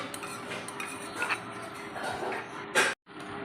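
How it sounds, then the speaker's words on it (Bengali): A spoon stirs and mixes a soft food with batasa sugar drops in a bowl, giving steady scraping clinks and light clatter of cutlery against the dish, with one sharper knock near the end before a brief pause. "নেড়ে এটা এবার আমি মিলাবো"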